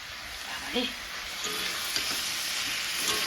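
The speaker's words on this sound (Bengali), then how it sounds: "মাংসটা কষাচ্ছে টমেটো দিয়েছে একটু মাংসতে" Meat with tomato sautés in a pan, making a steady close sizzle with a few brief stirring knocks; a faint voice comes through briefly.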